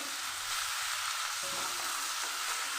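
Ginger paste sizzles in a pan for a vegetarian dish as a little water is added, producing a continuous close, bright hiss with a slight flare in the middle.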